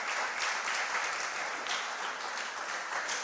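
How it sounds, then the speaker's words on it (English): Applause from the audience at a school quiz competition between Matta Devi Basic School, Tema Parents Association and Belhaven Montessori, a continuous moderate patter of many clapping hands with slight swells, no voices over it. "Please give them a round of applause."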